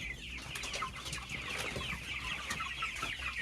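Chickens on a poultry farm cluck and call continuously, several birds close by over a steady barn background, with no talk.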